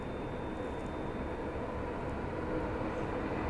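Kaifiyat Superfast Express running from Delhi toward Azamgarh, a close, loud and continuous rumble of passing rail cars with a faint high whine on top.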